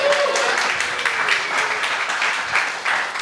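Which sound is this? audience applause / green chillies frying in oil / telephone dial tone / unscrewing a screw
audience applause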